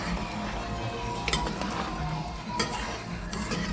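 Rice for Trinidad chicken pelau stirred in a pot, a steady low scraping and shuffling with a couple of sharper metallic clinks of spoon against pot, close and moderately loud with no talking.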